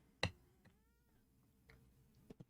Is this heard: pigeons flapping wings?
no